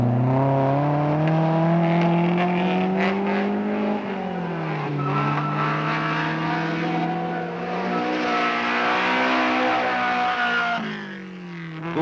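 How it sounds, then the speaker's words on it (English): A Datsun rally car races in the 1976 Safari Rally, its engine howling loud and close with rising and falling revs as it accelerates and shifts gear throughout, with no voices. "Holland in his Datsun."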